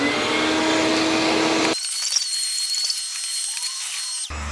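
A vacuum cleaner sucks up debris inside a vintage truck camper under renovation, a loud steady broadband roar that drops off partway through to a thinner whine before cutting out near the end.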